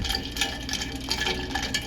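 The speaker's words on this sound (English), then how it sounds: "I'm just going to stir that around some." Ice water stirred around in a pot on a switched-off stove, a close, steady swishing and sloshing of liquid that runs without a break and with no voices.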